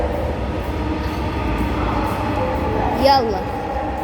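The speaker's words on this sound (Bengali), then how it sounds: "platform, metro rail" Metro train at an underground platform, a steady low rumble of the train with a brief squeal near the end, while a person speaks over it.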